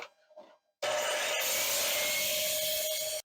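Table saw blade ripping through a wood board for a trim cut, a sudden loud sustained whine after a brief quiet moment, close and steady until it stops.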